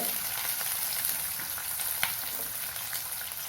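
Sliced onions sauté with rock salt in a hot pan, a steady, close sizzle of frying that carries on throughout, with a few faint stirring ticks and no voices.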